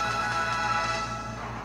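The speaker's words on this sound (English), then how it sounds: "What's going on with my notifications?" A short chiming alert tone sounds, likely a Twitch notification on a computer, with steady tonal harmonics ringing under background game music and no talk.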